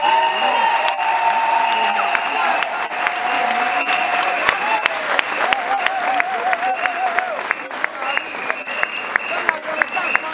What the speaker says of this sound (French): Je vous demande de vous lever et d'applaudir Baro Chambrier.